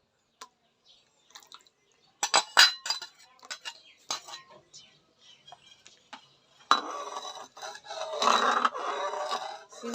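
Sugar being stirred into mango juice in a bowl: scattered spoon clinks and small splashy drips at first, then a denser swishing of liquid being mixed toward the end, quiet and close.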